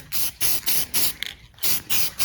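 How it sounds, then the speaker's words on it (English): Aerosol rattle-can spray paint hisses in about seven short, even bursts onto 1974 Mopar suspension parts, up close and steady, with a brief rattle between bursts. "I'm just giving these an aerosol overhaul, the rattle can here."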